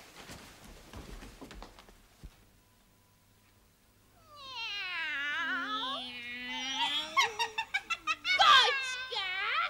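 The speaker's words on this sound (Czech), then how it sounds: "Kočka! Obyčejná bílá kočka!" A white cat in a 1979 Czech film lets out long, wavering meows after a quiet, noisy opening, building into quick pulsing cries toward the end, close and prominent.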